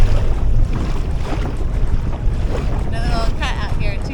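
A small sailboat moves across windy Lake Ontario, with strong wind buffeting the microphone and water rushing and slapping against the hull throughout the short stretch.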